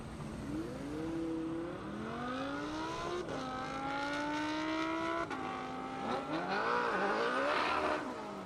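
A BMW M5 launches hard at a half-mile airport drag race, engine wailing through rising gear-shift sweeps as the tires spin, loud and close with no talk.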